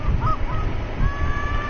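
A few short, nasal goose honks come from the hunting game The Hunter: Call of the Wild. They sound fairly close over a low, rumbling background.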